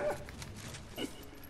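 A dog companion in the game Remnant: From the Ashes gives faint, brief yips and whimpers, quiet and somewhat distant, with one short yelp near the end.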